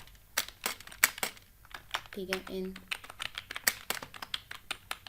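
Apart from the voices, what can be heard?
typing on a computer keyboard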